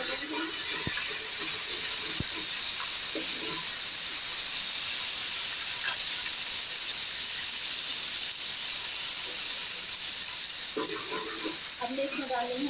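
Spices being fried in a pot for Hyderabadi beef yakhni pulao, a steady close hiss and sizzle throughout, with a voice speaking briefly over it.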